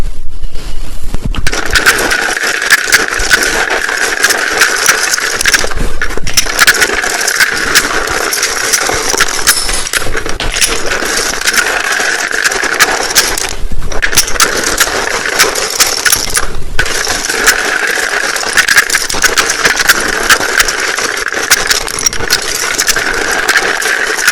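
Tarot cards shuffled loudly close by, a continuous dense rattle of riffling card edges in repeated bursts with brief pauses between rounds.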